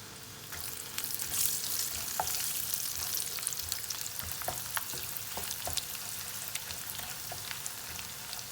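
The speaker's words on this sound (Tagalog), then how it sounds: "magpiprito muna tayo ng dilis" Anchovies (dilis) frying in reused cooking oil, a continuous close sizzle with scattered pops and crackles, with occasional stirring clinks in the pan.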